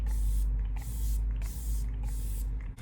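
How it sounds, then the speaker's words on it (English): ColourPop setting spray mists across a face in four quick, close bursts of hissing spray, evenly spaced with short pauses between them. "I'm just going to spray that all over the face."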